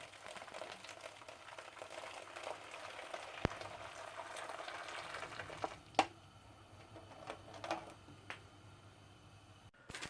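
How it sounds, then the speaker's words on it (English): Water boils in a pot on a small Russian field-ration stove, a dense bubbling hiss that gradually settles, broken by a few sharp clicks and knocks, with no talk. "So I'm going to go boil this up and get some hot water and stuff for the coffee."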